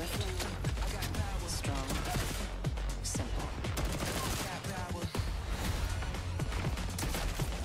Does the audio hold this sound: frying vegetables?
no